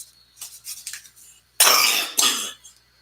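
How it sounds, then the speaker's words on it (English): A person with COPD gives a harsh, hacking cough, two loud bursts in quick succession after a few quieter breathy sounds, close and clear in a quiet room. "Excuse me, COPD cough."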